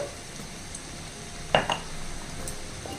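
Chili powder is stirred into a simmering vegetable curry in a pan, with a soft continuous sizzle and one sharp spoon clink against the pan.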